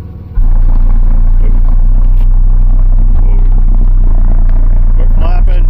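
Slapz NEO 15-inch subwoofers on a Slapz SHB 8k amplifier, played at low volume inside a car: a deep, continuous bass drone that kicks in abruptly after a brief quiet moment and holds steady, with faint talk and cabin noises over it.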